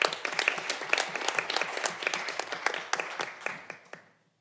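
An audience at a College of Law research week event applauds a keynote speaker with close, distinct claps that thin out and fade to silence near the end.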